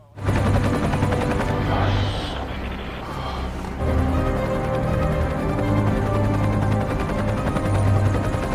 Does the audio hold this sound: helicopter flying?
yes